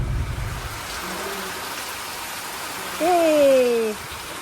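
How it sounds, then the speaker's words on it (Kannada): Heavy rain pouring around a large village house, a steady broadband wash of falling water, close and even, with a brief tonal voice-like sound near the end. "ಬಂದ ತಕ್ಷಣ ಕೂಡ ಭರ್ಜರಿ ಮಳೆ ಹೋಯ್ತಾ ಇದೆ"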